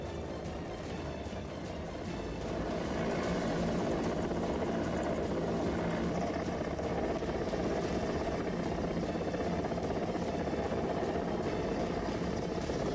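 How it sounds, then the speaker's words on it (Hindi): A rescue helicopter thrums steadily at a distance, its rotor and engine noise swelling slightly louder after the first couple of seconds and then holding a continuous, dense roar. "जब हेलीकॉप्टर वहां पर पहुंचता है तो उस शख्स की जान में जान आती है"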